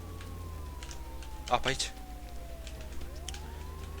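Police car siren in the Contraband Police video game, a wailing tone that slowly falls, then rises again, under steady engine rumble, with a short burst of noise midway and someone speaking briefly.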